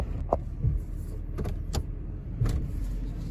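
A 1998 Chevrolet Silverado pickup sets off for a drive, its engine rumbling steadily up close, with a few short mechanical clicks and knocks from inside the cab over the low drone.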